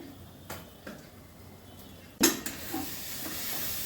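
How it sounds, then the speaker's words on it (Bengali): Ground lentil paste with turmeric, chilli powder and green chillies sizzling in a pan, scraped and stirred with a few sharp clicks and one louder clatter of the spoon against the pan, over a steady low hiss. "ডালটা ঠিক এইভাবে শুকিয়ে দিচ্ছি"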